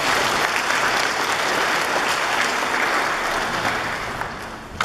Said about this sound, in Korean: 우리 박수로 우리 한번 맞이하겠습니다.